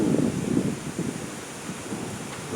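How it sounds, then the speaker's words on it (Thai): Strong gusting wind buffets the microphone with low rumbling thunder-like roars as a rainstorm approaches, loud and continuous throughout with no voices. "ลมแรงมาก"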